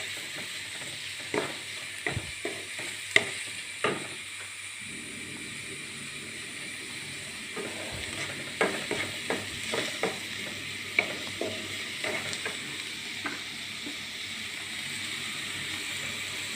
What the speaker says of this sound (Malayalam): നന്നായിട്ട് മിക്സ് ചെയ്ത് ഇളക്കി കൊടുക്കുക